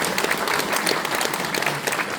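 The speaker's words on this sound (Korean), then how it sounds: "큰 박수 부탁드립니다" A crowd at a book launch ceremony applauds a guest speaker, a loud, sustained burst of dense clapping from many hands.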